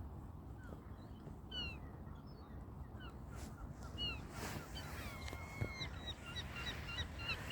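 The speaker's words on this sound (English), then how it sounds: "Definitely a swan." A swan calls at Crosby Marina in Waterloo, Liverpool, with other birds nearby: a series of short, high, honking calls repeats over several seconds against a steady outdoor rumble.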